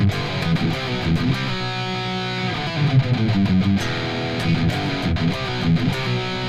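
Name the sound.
distorted electric guitar chorus riff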